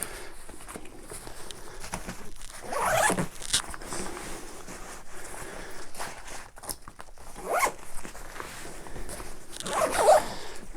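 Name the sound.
zipper on a packing cube being zipped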